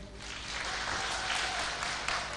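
A television show studio audience claps steadily, a dense wash of applause that holds at an even level throughout.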